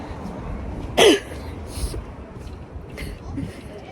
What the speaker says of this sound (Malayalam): ഇപ്പം തന്നെ എനിക്ക് ചുമക്കെ വരാൻ തുടങ്ങി